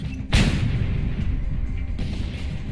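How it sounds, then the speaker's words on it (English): A heavy explosion in the video game Just Cause 2 booms out loud and deep, followed by a sustained rumbling roar, with a second, smaller blast arriving about a second and a half later. "Yeah, they will explode."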